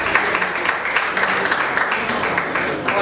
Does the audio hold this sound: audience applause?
yes